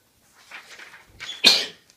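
A single close sneeze with a soft breathy intake before it, then a sharp loud burst that quickly fades.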